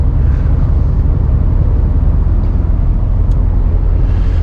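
Loud, steady low engine drone filling a Mercedes truck cab, a constant rumble with road noise and no voices.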